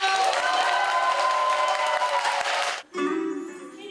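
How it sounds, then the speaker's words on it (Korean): A theater audience in Jeju claps and cheers loudly to open a performance, a full, steady roar that cuts off abruptly near the end and gives way to a different, tonal sound. "여기 모이신 우리 관객 여러분들의 큰 박수와 함성으로 시작해보도록 하겠습니다."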